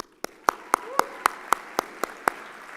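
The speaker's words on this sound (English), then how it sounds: "I want to applaud the parents" Applause for parents at a high school commencement ceremony, heard here as a regular series of about nine sharp, evenly spaced claps, close and distinct, over a soft background hum.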